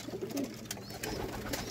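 Pigeons coo softly in a bird enclosure, low murmuring calls over faint background noise, brief and quiet with no voices.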